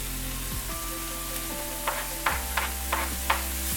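Garlic goes into browned prosciutto in a pan and sizzles with a steady hiss. A utensil stirs and scrapes the pan several times, with light clicks and taps toward the end.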